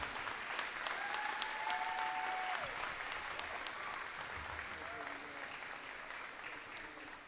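Crowd applause fills a gym for senior players at a women's college volleyball match on Senior Day, sustained and steady clapping throughout with distant crowd noise.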